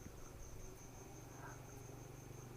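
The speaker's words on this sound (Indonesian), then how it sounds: "di sini ada jual jangkrik" Crickets kept for sale as fishing bait chirp steadily before dawn, a faint, continuous high trill over low background hum, with no voices.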